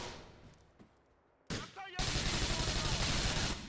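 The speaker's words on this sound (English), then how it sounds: "I think I was shooting at my teammate." Gunfire in Grand Theft Auto 4 during a bank heist in Liberty City: a few scattered shots, then loud sustained rapid fire rattling continuously to the end.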